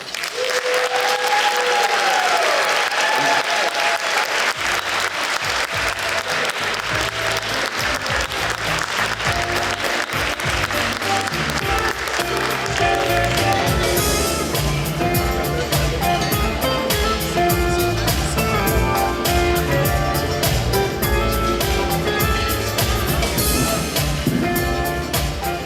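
A reception audience claps for an award presentation, dense sustained applause swelling loud and continuous for the whole stretch, with faint crowd murmur beneath.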